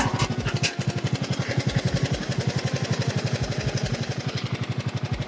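A 12.5 hp Briggs & Stratton engine on a Lowe's lawn tractor runs close by with rapid, even firing pulses, chugging at a steady speed without revving up, loud and unbroken, with no voices.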